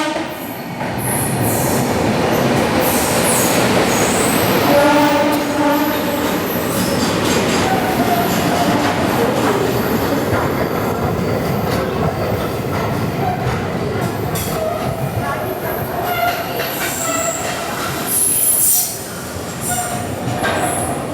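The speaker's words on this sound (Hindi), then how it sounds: "हमारी ट्रेन पहुँच चुकी है" Hazur Sahib Nanded–Santragachi SF Express pulling into Durg Junction at dawn, a loud continuous rumble of rolling wagons with rhythmic wheel clatter and occasional high squeals of wheels on rail, steady throughout.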